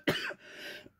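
A single short chronic cough from a woman, close and fairly quiet, with a brief raspy tail.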